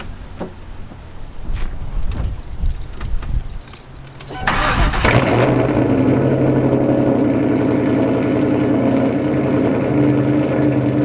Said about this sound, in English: I'm gonna go ahead and start the car for you guys, give you guys a little cold start